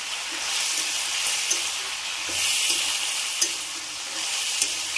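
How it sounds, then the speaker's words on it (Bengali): Potatoes frying with ginger for aloo posto, a steady hiss of sizzling oil with scraping stirs of a spoon in the pan, close and continuous. "আদা দিয়ে ভালো করে নেড়ে নেব।"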